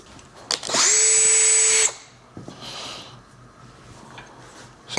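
A power drill whines at a steady pitch for about a second while boring a half-inch hole for a motorcycle gas tank mount on a chopper, then stops, leaving faint workshop handling noises.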